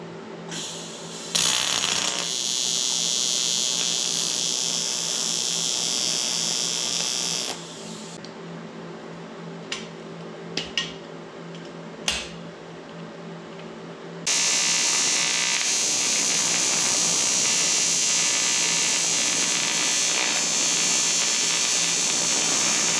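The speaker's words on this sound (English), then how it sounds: "I want to make sure I got a good weld on that top" Welding a tachometer mount on a 1974 Dodge Dart, a steady harsh buzzing arc in long stretches broken by short pauses and a few clicks, close and loud.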